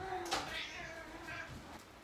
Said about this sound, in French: il faut que j'aille ouvrir la porte à mon chat.